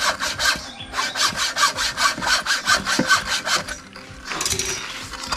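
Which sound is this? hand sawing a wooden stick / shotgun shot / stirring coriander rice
hand sawing a wooden stick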